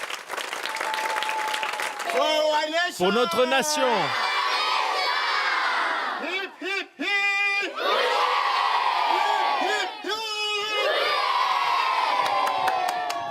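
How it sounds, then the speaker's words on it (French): A crowd in Lagos, Nigeria claps and cheers loudly, with children shouting and rising whoops in waves over continuous applause, and voices chanting together at points. "Applaudissez tous ensemble."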